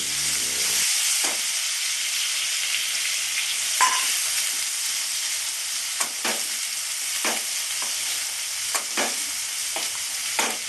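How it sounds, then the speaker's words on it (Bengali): Chopped onions fry in hot oil in a pan for a Bengali pointed gourd dorma gravy, giving a steady loud sizzle with scattered crackles and occasional stirring scrapes, and no voices. "এইবার আমি এই তেলে বাকি পেঁয়াজগুলো দেবো গ্রেভি করার জন্য"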